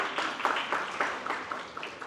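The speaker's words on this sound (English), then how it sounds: "Can we give our MCs a big round of applause, everybody?" Moderate applause from the crowd at a fundraiser iftar for the MCs, a blurred patter of many hands with a few louder claps standing out, gradually fading.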